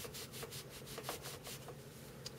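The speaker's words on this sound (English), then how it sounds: "just take it and rub it onto your CPU and RSX" Thermal paste rubbed onto a PlayStation 3 CPU and RSX chip, a quiet, close, rhythmic brushing and scraping in quick repeated strokes with no voice.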